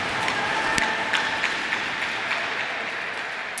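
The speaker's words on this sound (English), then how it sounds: "A nice round of applause by the fans." Fans applauding at an under-20 ice hockey game between the United Arab Emirates and Singapore, a steady wash of clapping filling the arena with a few sharper claps standing out.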